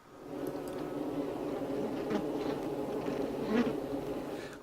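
Apis honeybees humming inside their hive, a steady dense buzz of many insects close by that stays even throughout, with brief swells as individual bees pass near.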